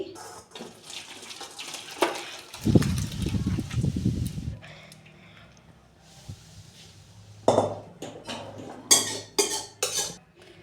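Curdled milk chhena being poured into a strainer in a home kitchen: clatter of a pot and utensils, a burst of liquid splashing and draining, then sharper metallic knocks and scrapes, moderately close, with no talking.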